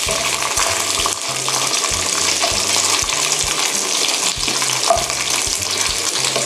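Fish balls, fried wontons and fried shrimp stir-fried in hot oil, a steady loud sizzle broken by rhythmic scraping and clanking of a spatula against the wok, with no talking.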